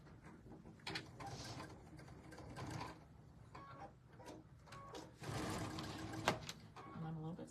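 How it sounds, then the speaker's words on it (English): Sewing machine stitching quilt strips into pairs with a 1/4 inch seam allowance for a strippy table runner, a steady mechanical whir running under a woman's continuous speech. "So I'm going to sew them into pairs."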